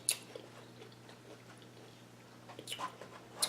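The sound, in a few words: chewing big soft croutons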